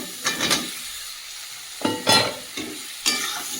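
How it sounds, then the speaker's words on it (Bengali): Fried pointed gourd and potato pieces being stirred in a little oil in a pan, with a soft continuous sizzle broken by four distinct scraping, spatula-driven bursts of frying. "ভেজে রাখা পটল আর আলুগুলো দিয়ে দেব"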